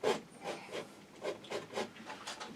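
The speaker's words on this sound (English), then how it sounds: "all we do is we just scrape off any bits we don't want" A tool scrapes unwanted paint off an oil painting canvas in short, soft, repeated strokes, about eight rasping passes at an uneven rhythm, close and faint.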